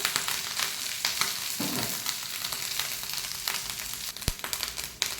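Grated coconut dry-roasting in a pan, with continuous crackling sizzle and repeated scraping strokes of a spoon as it is stirred, plus one sharp knock near the end, no voices.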